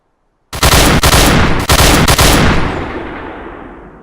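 Bursts of AK rifle fire in a VR game: sharp, loud automatic volleys in quick succession, close and booming, then the last burst trails off into a long fading echo.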